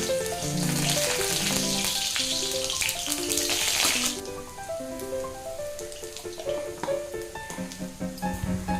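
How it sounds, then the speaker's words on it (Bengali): Garlic and green chillies frying in mustard oil in a wok, a loud close sizzle that settles after a few seconds, with a steady tonal hum running underneath. "কড়াইয়ে প্রথমে সর্ষের তেল, তারপর কাঁচা লঙ্কার ফোড়ন, তারপর রসুনগুলো দিয়ে দিলাম"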